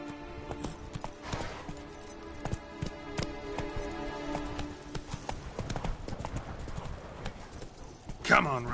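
Roach, the horse in the video game Witcher 3, galloping with rapid rhythmic hoofbeats over background game sounds, a louder burst near the end, while a man urges the horse on.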